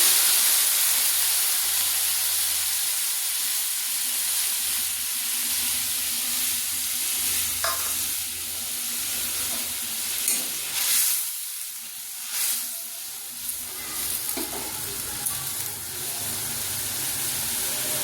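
Mustard paste hits hot oil in a pan for pomfret curry, setting off a steady loud sizzle and hiss that gradually eases, with a few stirring clatters and bubbling pops later on.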